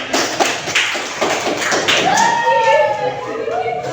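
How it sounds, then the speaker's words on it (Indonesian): A school class applauds a student group in a classroom: a burst of many hands clapping in a dense, uneven patter, then fading as a teacher's voice takes over. "Beri aplaus, tepuk tangan."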